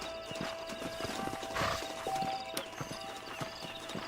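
Several horses clip-clop at close range in a Red Dead Redemption canyon scene, with dense uneven hoofbeats and a brief neigh partway through, and no talk heard over them.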